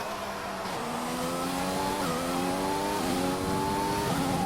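Formula 1 car engine in F1 2020 at the Australian Grand Prix, a steady high whine that climbs through the gears with short dips at each shift, continuous and fairly close, with no talk.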